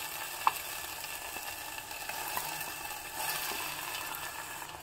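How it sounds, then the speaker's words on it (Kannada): Ground masala paste frying with softened onions in tempered oil for Mangalore-style tilisaru, a continuous close sizzle with faint scraping stirs and a sharp tap early on. "ಈಗ ನಾನು ರುಬ್ಬಿರೋ ಮಸಾಲೆ ಮಿಶ್ರಣವನ್ನು ಹಾಕ್ತಾ ಇದ್ದೀನಿ."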